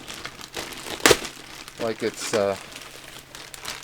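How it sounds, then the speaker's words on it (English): Thin plastic packaging crinkles and tears as it is pulled off a Hasbro Marvel Legends War Machine helmet during unboxing, with a sharp rustle near the start and brief speech following. "Plastic bag there. And also we have a plastic bag on the back here. Pull that right off."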